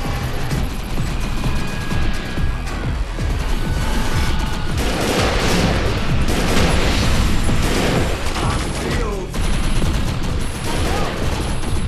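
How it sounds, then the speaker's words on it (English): Dense, continuous gunfire and heavy booms from the Defiance video game, a sustained loud barrage with crashes and mechanical clatter running throughout, no speech. "guns are gonna keep firing until we shut down the generator"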